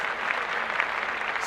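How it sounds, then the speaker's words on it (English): Steady applause from a group clapping in honor of the Super Bowl champions, a dense, even patter of hands that stays constant and fairly loud throughout, with no talking. "We're going to clap that up right away."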